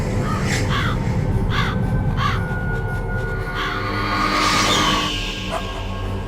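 Ravens caw in the video game Metal Gear Solid: a run of harsh, evenly spaced caws over a steady game ambience, with a soft whoosh sweeping through near the end.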